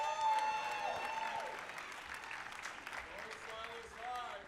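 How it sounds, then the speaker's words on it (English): Scattered audience clapping at a city awards ceremony, fairly faint and distant, with a voice speaking over it throughout. "Please, another round of applause for her."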